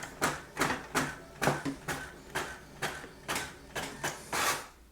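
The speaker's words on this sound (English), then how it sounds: "This printer prints quite fast, I would say." A Brother MFC-J4335DW inkjet printer prints a document with about a dozen evenly spaced whirring print-head passes, each swelling and fading in a steady mechanical rhythm, heard close with no speech.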